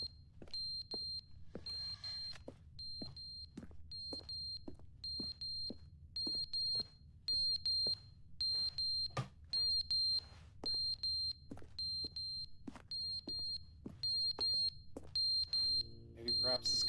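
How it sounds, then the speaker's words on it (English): Fallen alarm clock in The Stanley Parable video game beeping steadily in a regular pulsing rhythm of short high tones, repeating throughout over a low background hum and soft clicks. "Where's that beeping coming from?"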